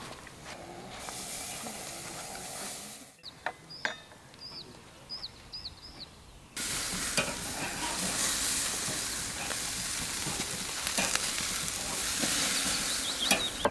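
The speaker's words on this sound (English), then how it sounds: "That is those ready to go onto the grill." Beef burgers sizzling on an outdoor barbecue grill at the Royal Highland Show, a soft hiss that jumps into a loud, steady crackling sizzle partway through, broken by a few clinks.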